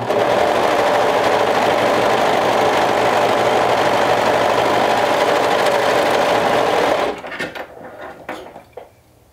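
A sewing machine runs steadily for about seven seconds, stitching a loop on a cuff and waistband seam with a 1/2 inch seam allowance, then stops, leaving a few soft handling clicks and rustles.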